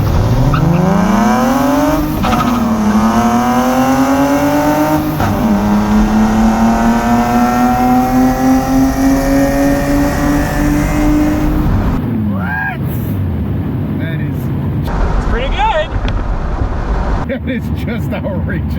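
A BMW with a 2.7i M20 engine pulls hard in first gear, its loud engine note climbing steadily through two quick shifts before dropping off, with voices and rattles near the end.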